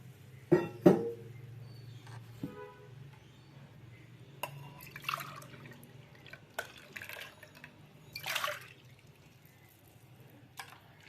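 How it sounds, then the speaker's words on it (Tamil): Grated coconut mixed with water being squeezed by hand to extract milk, giving scattered drips and short trickles into a tumbler, a couple of sharper splashes early, quiet and close with no speech. "கூட கொஞ்சம் தண்ணி கலந்து ஒரு ரெண்டு டம்ளர் எடுத்துப்போம்"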